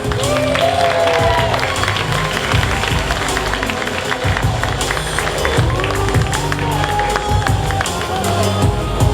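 A crowd at a Dreamhack winter cosplay show claps and cheers for a cosplayer, sustained applause and whoops filling the hall, with an announcer's voice over it.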